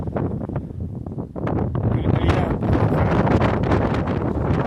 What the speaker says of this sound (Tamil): இப்போ காற்று, நல்ல காற்று